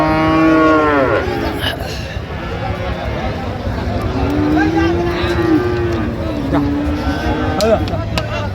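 Sahiwal bulls mooing at a cattle market, several deep drawn-out lowing calls one after another, close and loud over a busy crowd murmur with people talking nearby.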